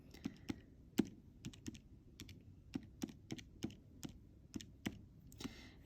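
Numbers are typed on a keyboard at a calculation, heard as a sparse series of soft, close key taps spaced irregularly over several seconds in an otherwise quiet room.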